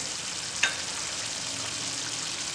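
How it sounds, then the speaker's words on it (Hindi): Chicken barra curry with yogurt frying in oil in a pan: a steady, dense sizzle throughout, broken by one short spatula clink early on. "अब इसे हम एक बार और भुनेंगे।"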